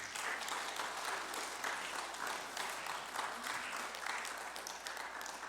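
Church congregation at a Sunday worship service applauding its elders, a broad, sustained patter of many hands clapping at moderate level, with faint voices mixed beneath.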